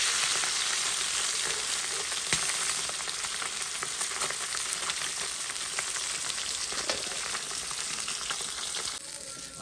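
Pieces of food fry in a pan with a constant, loud, close sizzle and faint bubbling crackle throughout, no talking.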